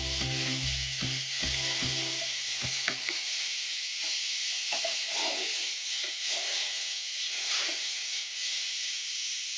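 Boneless chicken pieces fry in hot oil with a steady, close hiss and sizzle, while a few utensil stirs and clinks mark the start. No one speaks.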